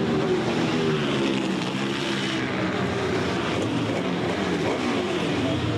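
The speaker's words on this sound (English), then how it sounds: "Smith keeping the motor running in neutral." Racing motorcycle engine running steadily in neutral during a pit stop at the 1996 AMA Daytona 200, a loud, continuous buzzing drone with slight pitch wavers and busy pit-lane noise around it.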